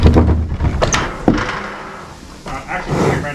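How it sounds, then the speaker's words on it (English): At a cattle pen during a draft horse rodeo, a door or gate gives a couple of sharp knocks and a heavier clunk amid rattling and shuffling, with a voice faintly in the background. "Open the door."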